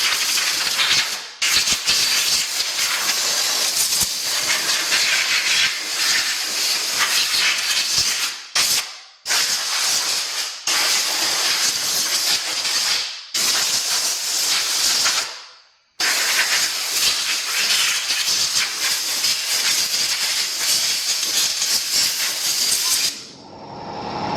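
Loud, close bursts of compressed air hissing forcefully in long blasts, with a few short pauses between them, blowing debris and cobwebs off a Craftsman power washer.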